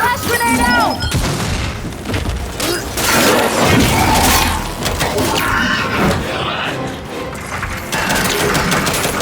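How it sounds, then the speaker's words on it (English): A flash grenade in Gears 5 goes off with a loud boom amid dense combat noise, clattering mechanisms and scattered crashes, with continuous battlefield din filling the whole stretch. "Throwing flash grenade! Flash grenade out!"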